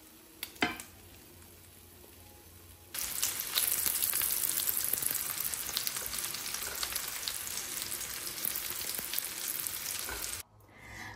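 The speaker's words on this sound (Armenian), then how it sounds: "Ավելացրել եմ, հիմա մի փոքր տաքանա ու տապակեմ։" Cauliflower frying in olive oil in a pan: a loud, dense sizzle bursts in after a quieter start and stays steady and close, then cuts off abruptly near the end.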